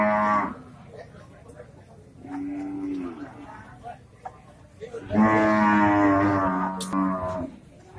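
Several Limousin cattle moo in long, deep calls, one after another, fairly close, over a low background murmur.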